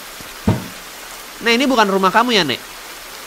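Rain falls in The Bathhouse Restored video game as a steady soft hiss in the background, while a person speaks over it.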